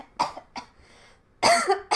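Several sharp coughs, two short ones, then a pause and a louder double cough, close to the microphone.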